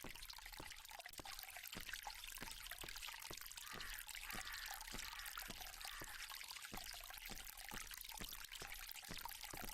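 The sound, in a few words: fountain water flowing in a video game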